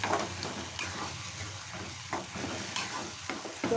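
Mashed mango pickle is stirred in a hot pan, giving a soft, fairly quiet sizzle with intermittent scraping strokes and light clinks as it is mixed, and no one speaking.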